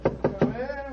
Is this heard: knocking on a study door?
yes